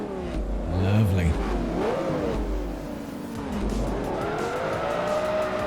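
A front-wheel-drive race car in Forza Motorsport 3 revs and accelerates with rising, falling engine pitch, a tire squeal and skid near the start, loud and close, with someone talking over it.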